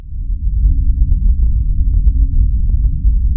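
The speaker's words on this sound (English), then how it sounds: "It has been described as a whirl, a hum, a buzz" A mysterious, unexplained low hum drones steadily and loudly throughout, a deep rumbling throb with a few faint ticking sounds scattered over it.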